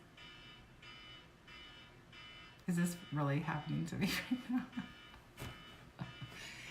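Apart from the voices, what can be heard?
alarm going off in the background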